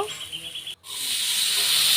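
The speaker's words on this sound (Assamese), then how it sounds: "মই কেৰাহীখনত তেল অলপ দিলোঁ আৰু তাতে পিঁয়াজ নহৰু দি এতিয়া অকণমান ৰঙচুৱা হোৱালৈকে ভাজিব লাগিব।" Onion and garlic frying in oil in a wok, a close, loud sizzle that breaks off briefly and then returns stronger, rising into a steady bright hiss.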